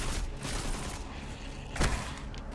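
Rapid gunfire from a fast-firing gun in Destiny 2, dense overlapping shots with one sharper, louder report near the end, no talking.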